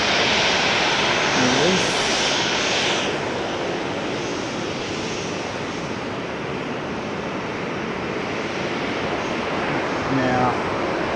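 An airliner in Jinbei blue whale shark livery arrives at Haneda airport, its engines a steady broadband roar throughout, with a brief spoken remark near the start.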